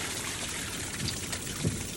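Water gushes steadily from a high-pressure leak, a dense continuous hiss and rush with faint trickling detail, loud and close throughout.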